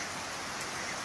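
Steady rain falls outdoors on a farm with baby goats, a soft even hiss of dense patter, faint and unbroken throughout.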